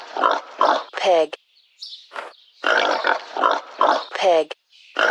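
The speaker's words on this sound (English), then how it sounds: "pig" Pig oinking in a children's find-the-animals educational game, a run of short grunting bursts in quick succession with brief pauses, a lone squeal-like cry near the middle, loud and close.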